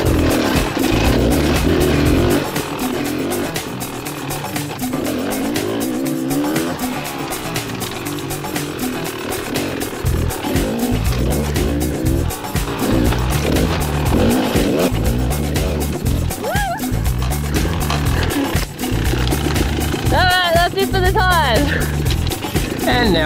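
A cross trainer dirt motorcycle rides a jungle trail in Cambodia, its engine thrumming close and continuous with rises and dips in revs, while someone talks over it throughout.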